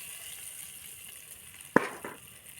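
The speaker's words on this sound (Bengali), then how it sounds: "এখন কচু শাকের উপরে এই বাগারটা দিয়ে দিচ্ছি।" Hot tempering of reddened fried onions poured over cooked taro leaves gives one sharp, loud sizzling burst that fades quickly, with a smaller hiss following about a quarter second later over a low, steady background hiss.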